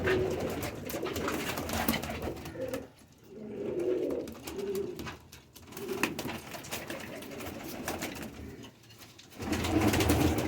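Pigeons coo softly in a loft in hot weather, with low, repeated, rounded calls in short bursts separated by quieter gaps, moderately near.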